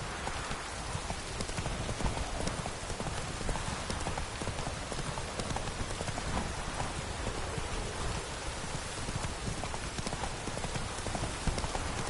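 Hooves of Roach, the horse in The Witcher 3 video game, clop in a fast, dense, steady rhythm for the whole stretch, loud and continuous under a broad rain-like wash of noise.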